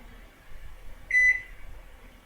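A kitchen timer on a stovetop soup setup gives one short, clear electronic beep, close and fairly quiet, over faint room hiss with scattered soft handling noises.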